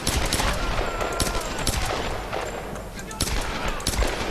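Pistol gunfire in the Tomb Raider video game, repeated sharp shots fired in quick bursts, loud and close over a noisy game background throughout.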